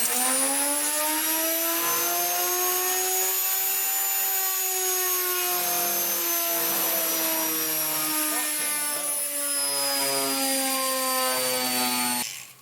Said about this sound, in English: My goodness, that's such a powerful motor.